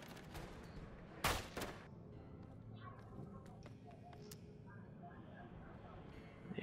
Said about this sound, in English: Shooting me gun there out of frustration